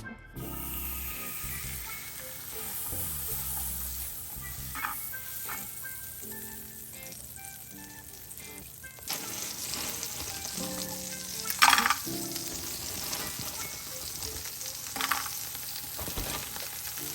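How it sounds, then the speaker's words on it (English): Food fries on a home stovetop with a low, uneven sizzle, broken by clattering utensil knocks and a brief sharper burst near the middle. "we're just gonna fry this up until it's nice and tender"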